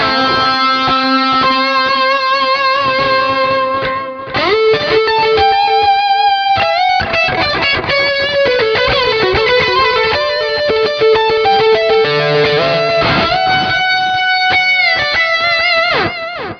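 Electric guitar played through a Nux MG-300 multi-effects unit set with an 808-style overdrive, EQ, noise suppressor, chorus, delay and reverb: loud, sustained driven chords and melodic lines ringing out continuously with a lush, echoing tail.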